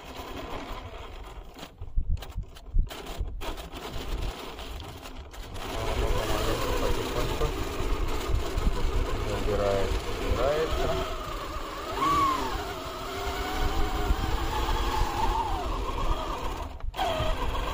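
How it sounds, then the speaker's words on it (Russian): A small electric motor whines steadily on an RC Toyota Land Cruiser 70 crawler in low gear climbing a wet, snowy hill, its pitch wavering with the load under a voice talking. "первый в горочку поедет у нас крузак пониженная передача"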